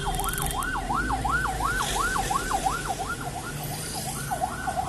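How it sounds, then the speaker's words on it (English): An ambulance siren wails in a steady, regular rising-and-falling pattern as it passes on a road, loud and continuous over low traffic rumble, with no talking. "There's an ambulance, you have to give way to them, which is very, very essential, very important."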